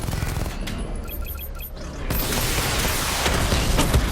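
Missile barrage firing in Batman: Arkham Knight, a dense rapid volley of launches and blasts that swells into a loud continuous roar of explosions, with no talk.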